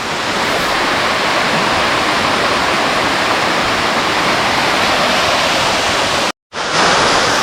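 Koovappally waterfall in Kottayam roars in a loud, continuous broadband rush of falling water heard up close, broken by one brief dropout near the end.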